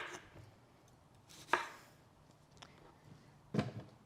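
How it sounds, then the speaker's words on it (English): A knife cuts up a lemon cucumber on a board, with two crisp, distinct chops about two seconds apart over quiet background. "right now, I'm going to use a lemon cucumber and cut that up"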